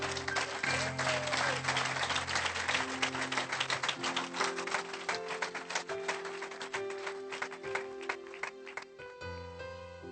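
A church congregation applauding together: sustained dense clapping fills the whole stretch, steady and fairly loud, with sung or held musical tones drifting underneath.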